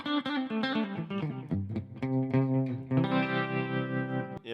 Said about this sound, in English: And here is the multi-chorus.